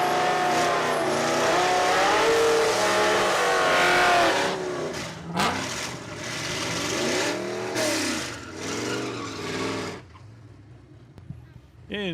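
A drag racing car roars off the line and accelerates down the strip at a bracket racing and test-and-tune event at Saskatchewan International Raceway, its engine climbing through rising gear-change sweeps, loud then fading into the distance, with an announcer talking over it.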